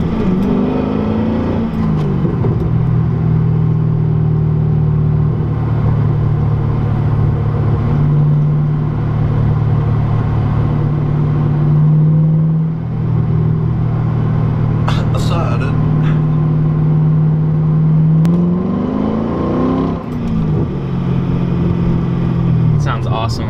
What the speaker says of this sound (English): Sounds awesome when you're accelerating.